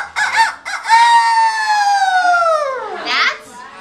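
A person imitates a rooster's cock-a-doodle-doo, crowing like Peter Pan in one long, loud, falling call with a short rise at the end, with children's chatter briefly before it.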